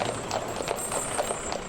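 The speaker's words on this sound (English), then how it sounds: "A Shire horse weighs around 1 ton, but is capable of pulling 6 tons" Shire horses walk at a slow pace, their hooves clip-clopping in an irregular series of sharp knocks against a steady background hum.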